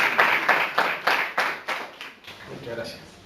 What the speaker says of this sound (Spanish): quisiera que con un aplauso diéramos la bienvenida a